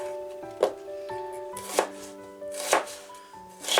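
A knife slices an onion lengthwise on a cutting board, four or five distinct sharp chops spaced about a second apart, close and clear with no talking.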